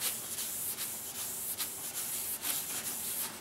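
A Festool Rotex RO 150 eccentric sander buffs a wooden surface with a steady, close broadband whir, broken by brief pulses as the pad shifts across the grain.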